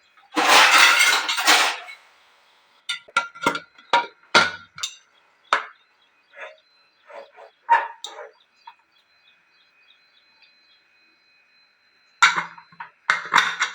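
A metal cooking pot lid is handled and closed with a burst of clattering, then a run of sharp metallic clanks and knocks with pauses between, ending in a few more clatters.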